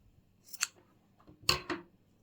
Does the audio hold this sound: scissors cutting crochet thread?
yes